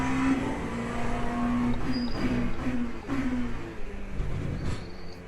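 Onboard race car engine in the Le Mans Ultimate sim racing game, a steady loud droning tone shifting pitch through gear changes, continuous throughout with no talk.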